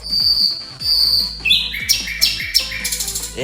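Bright, high bird chirps repeat over a busy electronic soundtrack in the game Supreme Duelist Stickman, with a rising whistle-like tone partway through and no voices.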